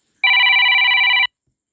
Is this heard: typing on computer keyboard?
no